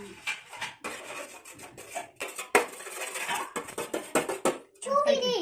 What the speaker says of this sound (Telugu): తీసుకొని దాన్ని పలగొట్టుకొని కలుపుకోవాలి